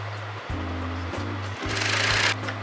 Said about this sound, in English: So just match the top fabric and I'm going to sew this.